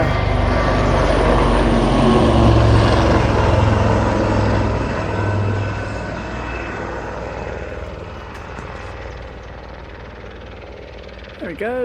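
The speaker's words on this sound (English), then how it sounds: "Helicopter!" A helicopter flies overhead outdoors by a waterside, its heavy rotor and engine roar loud at first, then fading steadily into the distance, with a brief voice near the end.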